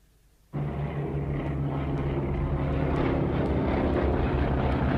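A B-24 Liberator bomber's piston engines roar in after a brief quiet moment, then hold a loud, steady droning hum with a low throbbing pulse as the aircraft flies low on a supply-drop mission.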